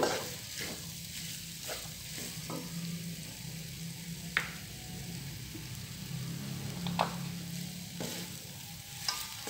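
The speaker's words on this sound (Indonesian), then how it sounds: "kemudian kita aduk hingga kacang tanah sangrai ini bisa tercampur dengan rata pada dagingnya" Beef and roasted peanuts are stirred together in a hot pan for Bugis Makassar gore-gore, a continuous soft sizzle broken by scraping strokes of a utensil at an irregular pace, close and moderately loud.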